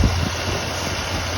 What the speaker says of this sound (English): See, that big old 352 is idling smooth.